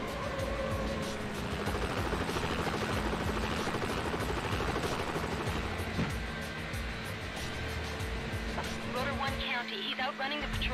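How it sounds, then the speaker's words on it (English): A police helicopter in Need for Speed: Hot Pursuit 2 drones steadily with a continuous rotor hum, mixed with road and engine noise and some background voices. "The helicopter is airborne."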